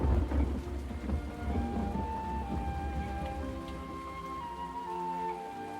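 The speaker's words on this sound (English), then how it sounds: "It has been raining solidly for a week." Heavy, steady rain pours down with deep thunder rumbling underneath, loudest at the start and then rolling on continuously through a dense wet wash.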